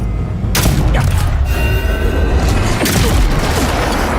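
A gun blast in the fantasy video game Avowed, loud booming bursts over a dense, continuous roar of battle noise with no clear speech.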